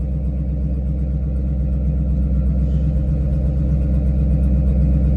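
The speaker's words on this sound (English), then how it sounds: "That's the first cold start where it started and went to idle correctly since I bought the car." A 2009 Ford Mustang GT V8 idles steadily after a cold start, a continuous loud low rumble with a slightly uneven, breaking-up pulse and no talk over it.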